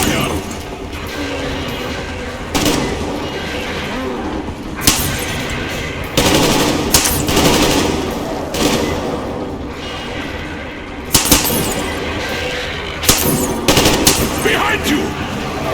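Automatic gunfire rattles in loud bursts at mutants in Metro Exodus, with sharp shots punctuating a dense, noisy game soundscape while voices shout over the action.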